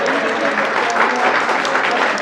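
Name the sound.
audience applause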